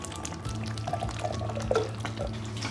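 Drained pinto beans slide from a container into a pot of cowboy chili with kidney beans, a soft wet pouring and splattering with a low hum underneath.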